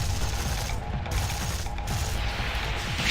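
Rapid automatic gunfire in the video game Sanctum 2 rattles continuously under dense, muffled game noise, fairly quiet and steady with no talk.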